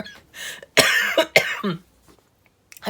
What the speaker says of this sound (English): I did a cough.